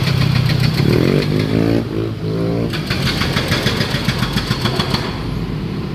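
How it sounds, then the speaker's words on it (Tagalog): Motorcycle engines rumble and rev nearby at night on a shortcut road near EDSA Guadalupe under rehabilitation, one rising as it passes, followed by a steady buzzing drone of more bikes moving along. "Yan yung ibang mga motor po dito po sa shortcut kasi nagkamali po sila ng daan."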